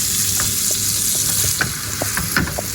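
Bread toasting on a hot Teflon pan at breakfast, a dense continuous sizzle close and fairly loud, dotted with several soft knocks and scrapes as the slices are moved, with no voices.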